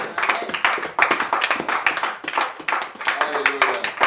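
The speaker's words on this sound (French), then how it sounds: "On acclame pour la parole du Seigneur." A church congregation claps in rhythmic bursts of applause, close and lively, with voices mixed in among the hands.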